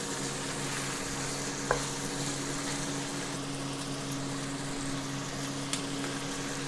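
Pork adobo frying in hot oil while being stirred, a steady close sizzle with a couple of brief utensil scrapes and clicks, no talking.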